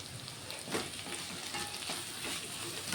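A spoon stirs salt into a bitter gourd and tomato curry in a pan, giving steady soft scraping and stirring over a continuous low sizzle with no talk.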